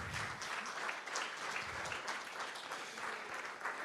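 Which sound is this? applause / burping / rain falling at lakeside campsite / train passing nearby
applause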